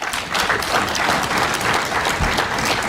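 Loud, dense applause fills a chamber at the official opening of the Pan-African Parliament session, a steady wash of many hands clapping for about three seconds.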